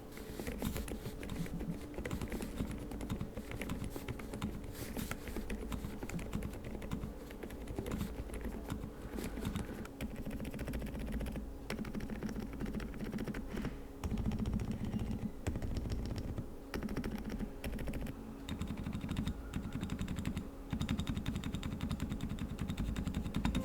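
Typing on an MCHOSE UT98 mechanical keyboard, a fast, steady stream of key clacks, close and continuous, with no talking.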